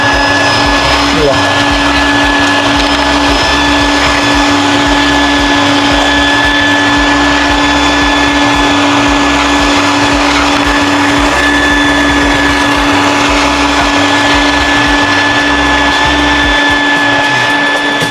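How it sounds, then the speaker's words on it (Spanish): A vacuum cleaner drones loudly and steadily as it sucks water from a Jeep's carpet, with a constant pulsing motor whine throughout and a voice speaking faintly underneath. "Agarras tu aspiradora"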